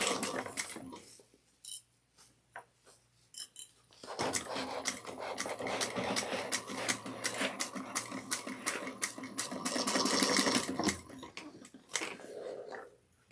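A sewing machine stitches a 3/8-inch seam around a bucket bag, giving a quiet run of rapid mechanical clicks that starts and stops in short bursts, then settles into a longer steady stretch.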